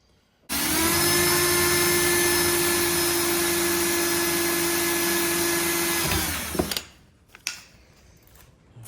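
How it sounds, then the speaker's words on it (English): A hand drill whirs loudly and steadily for several seconds up close, drilling metal on a milling machine, then winds down and stops, followed by a few clunks. "for the accuracy involved, we'll just use a hand drill."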